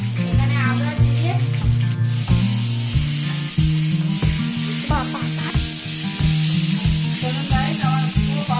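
Spices and ginger fry in hot oil with a loud, steady sizzle, broken by regular stirring strokes that scrape through it, while music plays and a voice speaks underneath.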